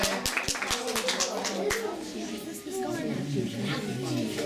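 A handful of sharp, scattered claps from children applauding in a primary school classroom near the start, quickly giving way to voices talking over a steady background.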